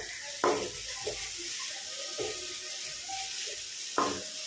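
Crushed ginger and garlic sauté in a pan for chicken semi gravy, giving a soft, continuous sizzle with a few sharp scraping stirs scattered through and no voices.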